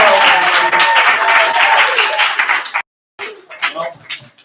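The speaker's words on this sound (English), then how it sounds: "So give a round of applause." An improv comedy night crowd bursts into loud, sustained applause and clapping, fading out before a short pause and a few scattered claps.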